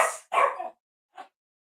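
Dogs barking indoors in a domestic setting: two quick loud barks close together followed by a fainter single yip after a short pause, with no speech.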